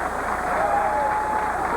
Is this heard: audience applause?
yes